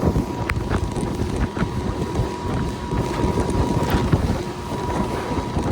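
A Boston Whaler motorboat roars steadily across water in Alaska, with heavy wind buffeting the microphone and splashing throughout.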